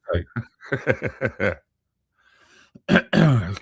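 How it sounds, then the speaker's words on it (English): A person talks briefly, falls quiet, then makes a couple of harsh throat-clearing rasps at close range. "Let me clear my throat."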